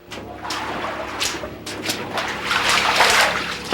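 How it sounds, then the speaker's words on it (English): Floodwater from Pigeon Creek overflowing its banks in Monongahela rushes and churns steadily, a broad continuous wash of moving water that swells louder toward the end, with no speech. "Pigeon Creek overflowed its banks too."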